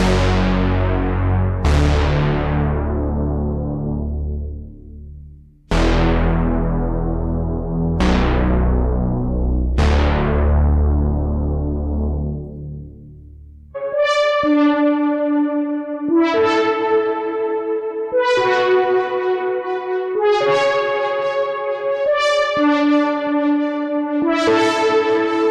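Melodic house synth lead patch on a Novation Peak synthesizer: wide, bright chords with long decaying tails give way to a rhythmic, plucky, echoing melodic line, loud and up front with no talking.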